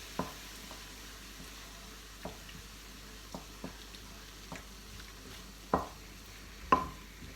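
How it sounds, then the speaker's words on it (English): A spoon stirs spoonfuls of crème fraîche into a prawn and Serrano ham linguine sauce in a pan, giving faint, sporadic scrapes and soft clinks against a quiet background. "A couple of spoonfuls of creme fraiche. And just mix that in."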